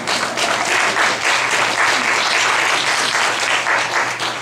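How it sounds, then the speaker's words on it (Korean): An audience at a workplace mission training session applauds, producing dense, continuous clapping that stays loud and even throughout, with no voices over it. "예비 간사 박수 한번 주실까요?"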